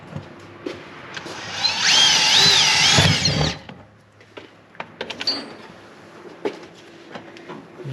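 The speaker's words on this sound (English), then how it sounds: "We'll drill a pilot hole." A power drill bores a pilot hole for a bracket that will hold lines on an old-school car getting fuel injection: a short, sharp whine of about two seconds, followed by scattered light clicks and handling noises.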